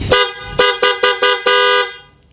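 A loud, brassy aftermarket horn on a Suzuki Raider FI motorcycle blasts several short times in quick succession, then holds one longer honk before cutting off.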